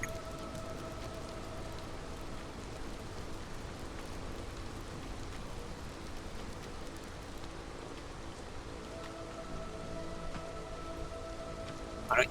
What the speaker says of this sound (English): The storm be upon ye.